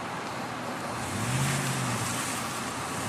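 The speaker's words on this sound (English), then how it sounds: "I just love the way that V8 sounds." A loud, rumbling Ford Raptor V8 engine roar that swells briefly in the middle over steady broadband noise, close and continuous, off-roading in mud.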